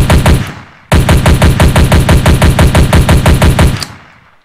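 Loud, close machine-gun fire from a first-person shooter video game plays as a short burst, a brief gap, then a long even stream of rapid shots that ends with a fading tail.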